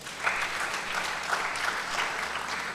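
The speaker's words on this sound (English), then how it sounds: "Give that panel a round of applause." An audience at a geopolitics conference in Kampala applauds a panel, a steady, fairly close wash of many hands clapping throughout with no voices on top.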